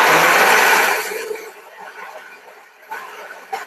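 A kitchen blender whirs loudly through vegetable juice for about a second, then cuts off, leaving faint clinks and handling noises.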